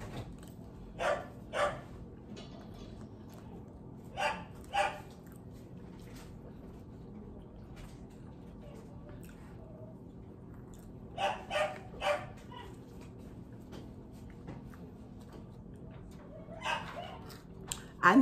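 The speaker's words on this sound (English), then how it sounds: "Excuse my dog." A dog barks indoors in short scattered bursts of two or three yaps, fairly faint, against a steady low room hum with no talking.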